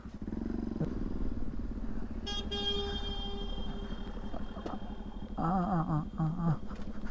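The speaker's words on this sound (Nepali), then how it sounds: "हर्न बजाउनै गर्छ त नि" A motorcycle engine idles and revs nearby in a traffic jam while vehicle horns honk repeatedly, including a long blare and several short toots amid traffic noise.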